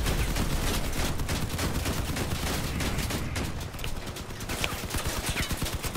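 Cannons and rocket launchers fire during vehicle combat in the game Crossout, a loud dense barrage of rapid overlapping blasts and rattling shots that runs continuously for several seconds, with no talking.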